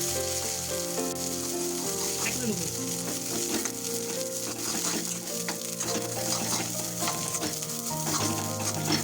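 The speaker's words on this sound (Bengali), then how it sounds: "এখন এটাকে আমরা মিনিট ধরে লো টু মিডিয়াম ফ্লেমে নাড়তে থাকবো।" Bottle gourd leaf paste with shrimp, garlic and onion sizzles steadily in a wok over low to medium flame, a continuous close frying hiss with scattered spoon-stirring scrapes throughout, no voices.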